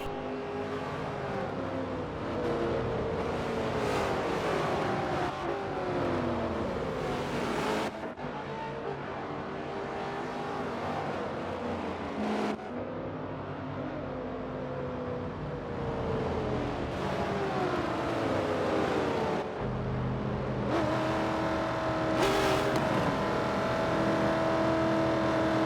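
Race cars at Watkins Glen scream past in a continuous loud stream, engines rising and falling in pitch as they accelerate and shift, with sharp cuts between passes over a long stretch.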